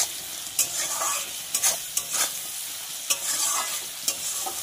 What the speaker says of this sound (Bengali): এবার দেখো আমি কিন্তু প্রায় 5-7 মিনিট এইভাবে টমেটোটা দিয়ে ভালো করে ভেজে নেব